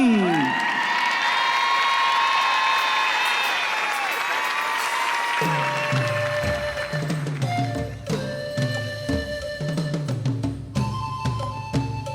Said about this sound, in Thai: ถ้าท่านพร้อมกันแล้วเสียงปรบมือดังๆต้อนรับ